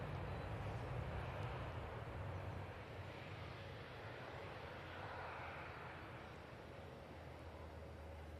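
A C-17 military transport aircraft rolls out after landing at Manchester Airport, a faint, distant low engine roar with broad rumble and wind-like hiss, steady and gradually easing, no voices.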